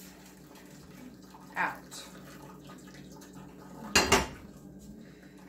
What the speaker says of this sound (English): So I'm going to use a strainer and I'm going to strain this broth